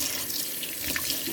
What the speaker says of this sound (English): you rinse it really, really well before cooking any type of rice